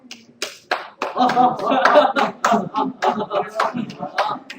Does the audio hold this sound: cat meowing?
no